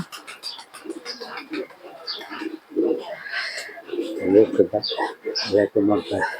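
Pet pigeons kept by a family keeper coo in low throaty bursts near the close, while several people talk throughout.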